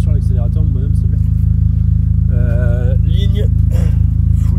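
A Renault Twingo 1.6 RS with a full stainless-steel exhaust line, idling loudly close up with a steady low drone and a few blips of the throttle, while people talk over it.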